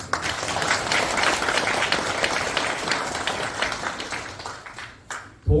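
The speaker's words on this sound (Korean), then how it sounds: "동의하시는 분만 우리 김규환 면장님 한 박수." A lecture audience gives a round of applause, dense clapping from many people that stays strong, gradually thins out, and breaks off abruptly before a brief final burst of sound.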